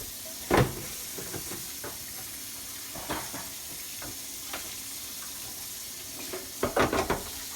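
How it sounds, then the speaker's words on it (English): A George Foreman 8-serving grill plate rinsed under a running tap, heard as intermittent splashes and knocks of the plate against the sink, with a short burst near the start and a cluster of clatters near the end. "So rinsing it off, grab it, rinse off the top."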